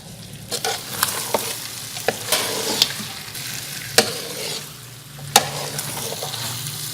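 Beef karahi with finely chopped green chillies, ginger and coriander being stirred in a pan: sharp spatula scrapes and clicks at irregular intervals over a steady close-up sizzle, with no one talking.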